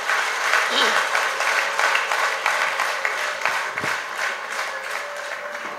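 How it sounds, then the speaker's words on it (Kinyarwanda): A church congregation breaks into applause, a dense, even patter of many hands clapping that stays strong and slowly eases, with a voice briefly rising over it. "Twakomera Yesu amashyi kubw'ijambo"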